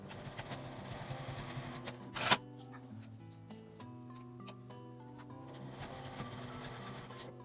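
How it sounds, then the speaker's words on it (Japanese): A sewing machine runs quietly, stitching the side seams of a slim faux leather coin purse. One sharp burst breaks the soft rhythmic whir early on, and the stitching resumes as a faint, steady mechanical hum. "両端を1センチの縫い代で縫います。"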